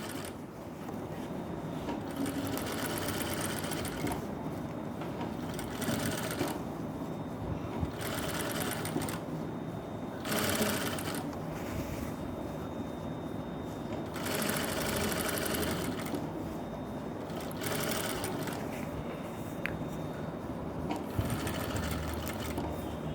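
A sewing machine stitching a blouse runs in long steady bursts separated by brief pauses, a close, continuous mechanical whir with rhythmic needle clatter.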